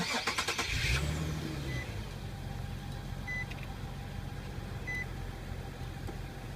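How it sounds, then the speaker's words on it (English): A 2016 Infiniti QX70 engine cranks and catches in the first second, then settles into a steady low idle with a couple of faint chimes, heard up close with no talking. "We'll go ahead and start the vehicle."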